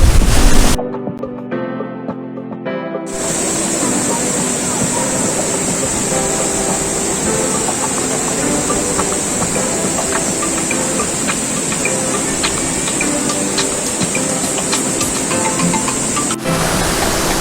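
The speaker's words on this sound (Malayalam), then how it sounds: "അത്രയ്ക്ക് നല്ല പവറിലാണ് വെള്ളം വരുന്നത്" Thooval waterfall in Idukki sends a steady, loud roar of rushing water that fills the whole stretch, broad and continuous with no pause, close and powerful.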